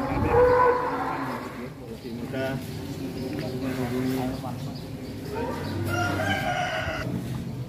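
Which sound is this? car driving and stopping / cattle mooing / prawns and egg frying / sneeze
cattle mooing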